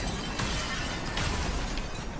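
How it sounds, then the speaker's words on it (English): Glass shattering during a storm in the survival game Icarus, a dense, crackling burst of breaking glass that runs through the whole moment, moderately loud without speech. "You could just hear all the glass breaking."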